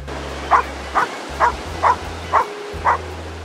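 A dog barks at sea lions on the Valparaíso waterfront in Chile, six sharp, evenly spaced barks about half a second apart, loud and close over a low steady hum.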